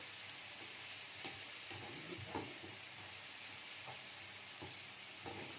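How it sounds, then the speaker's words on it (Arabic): Chopped onion sautés in a pan with a small spoonful of sugar added to caramelize it, giving a soft, steady sizzle with a few light stirring scrapes and clicks, close by and without talk. "اهو بنشوح كده البصله"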